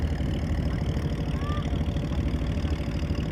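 A trawler's engine idles steadily near a launch terminal by a market on a blue lake, a continuous low throbbing drone heard close and alone.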